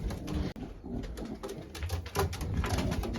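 Racing pigeons back at home in the loft cooing softly, with low repeated coos and rustling close by and no talk.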